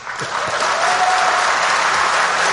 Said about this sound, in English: Oh, you hear that applause for that?